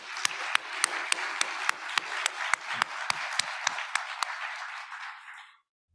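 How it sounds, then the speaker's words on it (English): Audience applause for a group of drummers at a human rights awards ceremony in a library hall in Halifax, Nova Scotia: dense, steady clapping with sharp individual claps standing out, fading away after about five seconds. "Let's give them another round of applause."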